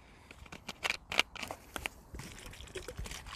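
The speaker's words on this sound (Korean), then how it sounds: "여기다가 막걸리를 넣어야 되겠죠" Makgeolli being poured into a plastic fly trap, quiet trickling and splashing with a few sharp plastic crinkles and taps from handling the container.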